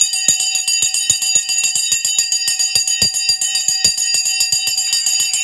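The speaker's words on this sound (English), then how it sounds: "It's time to ring the bell." A bell rings to mark the stock market open, a rapid train of sharp metallic strikes with bright sustained ringing overtones, loud and continuous for several seconds.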